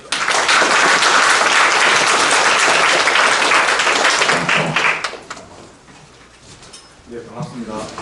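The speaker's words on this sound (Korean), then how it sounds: "김하신 교수님을 큰 박수로 맞이해주시기 바랍니다" A lecture audience gives a burst of loud, dense applause for an arriving professor, clapping steadily for several seconds before fading into scattered claps and room noise.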